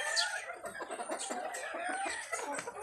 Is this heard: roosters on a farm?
yes